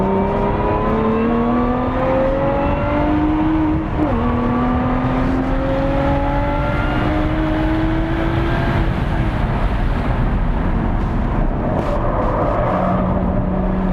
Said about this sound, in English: check the composure of the Evora 400 on Buttonwillow